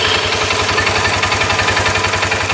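Polaris RZR 570 buggy engine with a failed brake light switch, running at a steady idle with a rapid, even low-pitched chugging pulse, loud and close.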